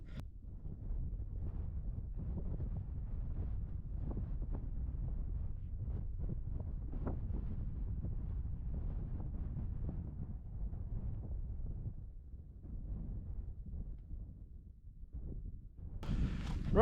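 Wind buffets the microphone on a fell summit on Grey Knotts in the Lake District, a steady low roar that runs throughout, easing slightly near the end before a sharp gust.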